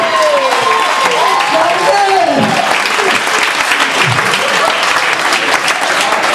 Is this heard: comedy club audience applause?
yes